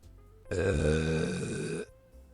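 A human voice imitates a long, deep burp, a single sustained rumbling belch of over a second that stands alone after brief quiet.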